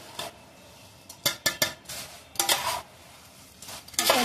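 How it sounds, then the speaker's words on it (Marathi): A spoon scrapes and clinks against a bowl while gilli bhel is tossed with lemon and raw mango, in irregular bursts of clatter separated by short pauses. "हे चांगलं मिक्स करूया."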